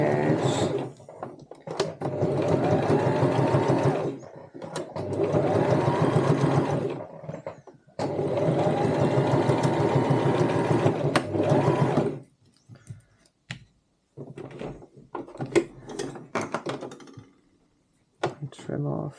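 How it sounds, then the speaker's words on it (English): A domestic sewing machine stitches close to the edge of a fabric cosmetic bag in three long, steady whirring runs separated by brief pauses, followed by quieter handling clicks and rustles. "And then just sew very close to the edge."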